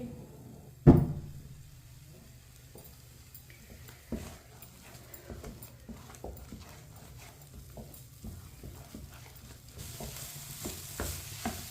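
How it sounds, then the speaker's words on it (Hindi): Eggs stirred with a spoon as they cook in a pan, opening with a sharp knock, then a quiet low sizzle with irregular scraping and tapping spoon strokes, close and without talking. "इसी तरह चम्मच चलाते हुए पकाएं।"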